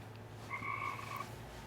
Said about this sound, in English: The tree frog agrees.